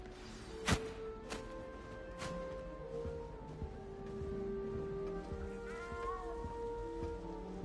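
A cat in the video game Hogwarts Legacy, set in a large castle, gives a few drawn-out meows and caterwauls in a row over faint background sound, fairly clear but not loud.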